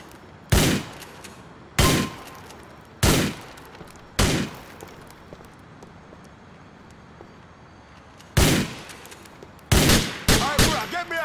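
Gunfire in the video game GTA IV, loud sharp single shots in an uneven series with longer gaps early on, then a quicker cluster of shots near the end.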